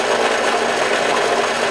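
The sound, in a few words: power drill making a fingerboard hole oval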